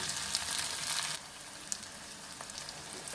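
Okra curry softens in oil in a pan, giving a continuous sizzle that stays loud for about a second, then drops to a quieter, even fry, broken by a few faint pops and stirring clicks.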